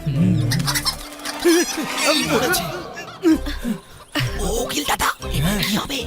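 A rooster clucks and squawks in short bursts close by while people talk and laugh over it.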